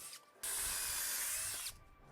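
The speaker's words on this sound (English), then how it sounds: "Drill 3/8 inch holes in each corner." A power drill bores 3/8 inch holes into the corners of a wooden gate, one continuous high whine of just over a second, close and alone, with quiet pauses before and after.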